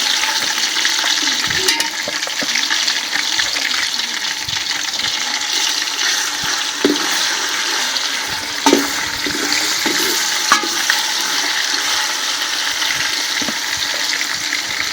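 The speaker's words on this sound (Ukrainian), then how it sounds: "помішуємо, щоб воно не пригорало до стінок кажана, а обсмажувалося" Roughly 1.3 kg of meat fried in a kazan for Georgian ojakhuri, a loud, continuous close sizzle with occasional scraping knocks as it is stirred.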